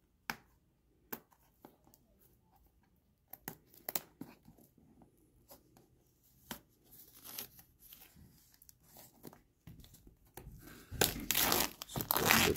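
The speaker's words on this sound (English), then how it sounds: "Rip it open." Tearing open the packaging of an Insta360 Go 2 action camera: scattered close crinkles and snaps at first, building into louder, continuous ripping and crumpling of plastic and paper near the end.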